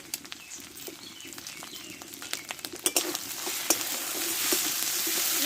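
Ground spice masala with chilli, turmeric, cumin and coriander frying in a pan, a steady close sizzle with stirring scrapes and clicks that grows louder toward the end.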